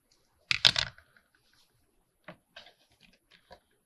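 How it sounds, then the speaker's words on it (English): Large scissors clip through lace and postcards, with one sharp double snip up close, then several quieter, scattered cuts and small handling clicks amid near silence. "I'm going to get my big scissors out and I'm actually going to clip these."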